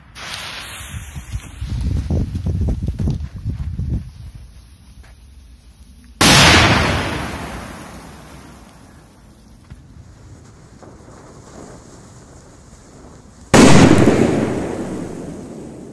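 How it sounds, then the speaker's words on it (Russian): K-999 firecrackers set in sand explode outdoors, with sharp loud blasts at about 6 and 13.5 seconds, each followed by a long decaying rumble and hiss, after earlier rustling and handling noise. "Сейчас будет мега взрыв."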